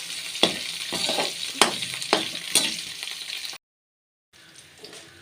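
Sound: pappadam thoran frying and being stirred in a pan

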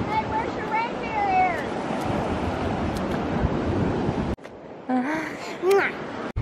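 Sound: ocean waves at the shore

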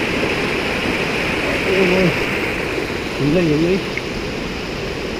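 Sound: mountain stream flowing while crossing it

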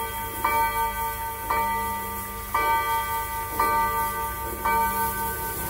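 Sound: clock striking the hour with bell chimes

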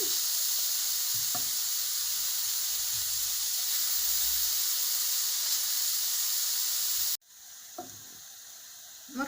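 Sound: grated carrot frying with onion in a pan

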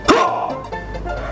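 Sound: person imitating dog barking in voice-controlled game

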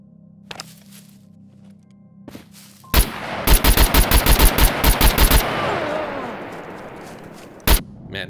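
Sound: tap firing a gun in Scum video game

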